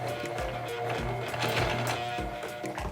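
Sewing machine slowly stitching a fabric sweatband, a steady mechanical whir with regular repeating stitch thumps close by, continuous for the whole stretch.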